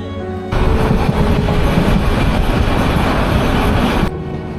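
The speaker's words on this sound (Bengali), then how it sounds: "ট্রেনটি এখন কুমিল্লা। সারা রাত জার্নি করে সে ক্লান্ত হয় না, চলতেই থাকে, চলতেই থাকে।" A passenger train runs through the night near Comilla, Bangladesh, with a loud, steady rumble and rattling that starts abruptly and cuts off near the end.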